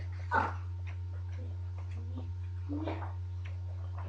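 A dog outdoors gives a few short, faint whimpers and yips at a distance over a steady low hum, with long quiet gaps between the sounds.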